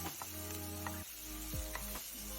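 Chopped salmon pieces cook in a pan, giving a steady close sizzle and frying crackle with faint scraping stirs, continuous throughout with no voices.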